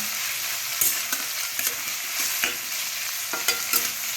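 Chopped garlic and capsicum fry in a pan for chilli paneer, a dense continuous sizzle close up, punctuated by spatula scrapes and knocks against the pan as the pieces are tossed.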